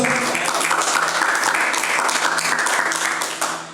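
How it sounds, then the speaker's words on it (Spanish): Steady applause from students in a Bible class, dense and continuous clapping that fills the room, fading slightly at the end. "Den un fuerte aplauso al Señor"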